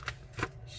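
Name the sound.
paper being pressed and folded for origami plane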